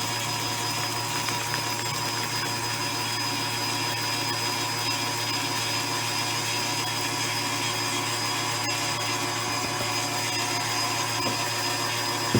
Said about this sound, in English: creating a kind of like whipped cream, but it's meringue. And I'm just going to crank the speed up here.